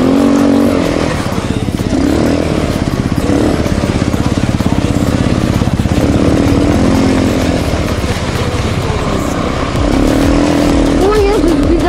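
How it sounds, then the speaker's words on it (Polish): A quad bike (ATV) engine runs close by in a loud, continuous buzzing drone with slight rises and dips in pitch, steady throughout. "Dziadek odpalił swojego quada."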